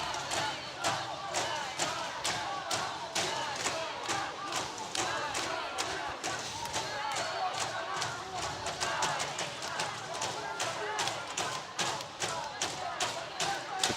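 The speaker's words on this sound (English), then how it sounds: "The Ukrainian cheering in the stands," Ukrainian fans in the stands at a wrestling final cheer steadily, with rhythmic thumping claps or stomps pounding in a regular beat under continuous crowd noise and commentary.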